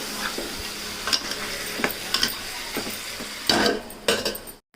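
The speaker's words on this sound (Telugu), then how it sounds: "ఇంకా అదైతే ఒకసారి వేసేసి మంచిగా కలిపేసుకోవాలి." A large tomato is stirred into chicken cooking in a pan: a low sizzle under repeated scraping and clinking strokes of a spoon, ending in a louder burst of stirring before stopping.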